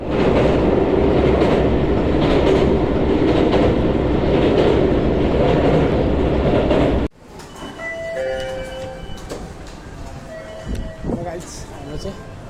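A train in Japan rattles past loudly with a steady clickety-clack of wheels, then cuts to a quieter scene with light clinks and people talking.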